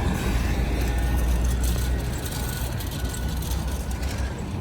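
A B8 city bus on a Brooklyn street in Borough Park, its engine a heavy low rumble passing close by and holding steady over traffic noise, with no talking.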